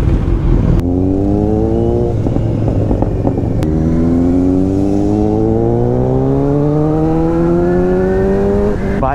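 A motorcycle engine is heard during an early-morning ride out of Bongaon toward Mandarmani. It runs loud and close, with pitch climbing steadily as it accelerates, dropping after a gear shift and then rising again, with no talking.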